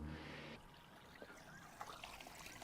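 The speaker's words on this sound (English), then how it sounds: "I'm going to run the pump now." A pump sends water trickling and splashing into a freshly fitted pond liner in a garden pond, a faint, steady pouring with small gurgles and no talking.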